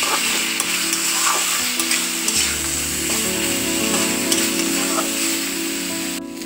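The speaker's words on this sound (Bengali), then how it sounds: "মশলাটার সাথে এটাকে ভালো করে কষাতে হবে" Food fries in a pan with spice paste while being stirred: a continuous close sizzle with occasional scraping, over a steady humming drone in the background and no speech.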